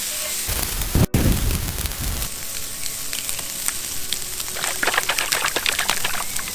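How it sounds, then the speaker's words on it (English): Bacon strips frying crisp in a pan over an outdoor fire while making kolbulle, a steady close crackling sizzle with a sharp knock near the start and denser popping toward the end. "you want to fry your bacon till they're pretty crisp."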